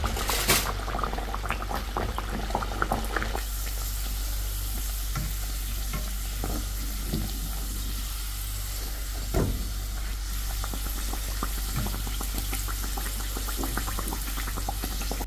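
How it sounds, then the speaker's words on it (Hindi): Dal puris deep-frying in hot oil give a steady, close sizzle with frequent stirring and utensil scrapes throughout, and no talking. "अब पूड़ियाँ फ्राई कर लेंगे।"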